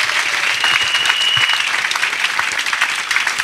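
A congregation at a 2024 healing and salvation weekend in Bingerville claps steadily and loudly, a thick, continuous wash of hands with no speech over it.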